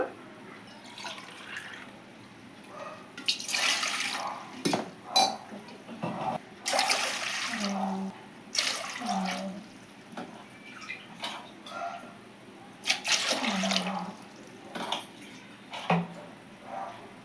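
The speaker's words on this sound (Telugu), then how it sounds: "2 గ్లాసులకి నేను 5 గ్లాసుల నీళ్ళు వేస్తున్నానండి" Water splashes and trickles into a pot in several bursts for cooking ragi mudda, with pauses between pours and faint clinks, fairly close.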